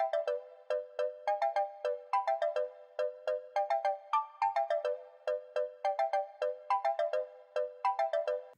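Bright, plucky synth melody for a tropical pop track, with two stacked notes playing a lead line and harmony in a steel-drum-like tone. Short bouncy notes repeat in a steady, syncopated pattern, clear and up front with no voices.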